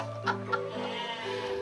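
Garut sheep bleat nearby in two short quavering calls, then a longer wavering bleat follows, heard close and clear over a quiet farm background.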